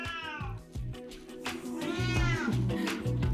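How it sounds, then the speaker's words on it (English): A cat meows repeatedly and loudly close by, with drawn-out, rising and falling cries, two long wails near the middle, over a low steady room hum. "Please don't pay attention to my cat."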